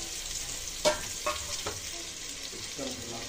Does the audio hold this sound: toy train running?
no